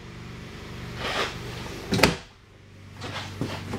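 Drawer in a 2021 North Point 377RLBH RV sliding open or shut, a short sharp wooden thump and rattle in the middle, with quieter handling noises before and after in a room-tone hush.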